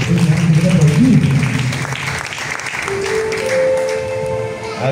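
A church congregation applauds and cheers during a French-speaking worship service. The clapping is a loud, dense wash of sound, with voices mixed in and a sustained tone rising near the end.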